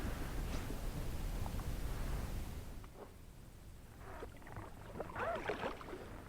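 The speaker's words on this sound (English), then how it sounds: "So this is me paddling back to the launch" Kayak paddle strokes splash and drip softly in water on the way back to the launch after a bowfin tournament outing, a steady rush of wind and water noise giving way to quieter, irregular dips and trickles.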